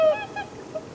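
A goose gives a short, nasal honk that rings out clearly at the start and then fades, with a fainter trailing call.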